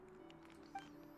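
A cat in Genshin Impact gives a single short, faint meow over a quiet background hum.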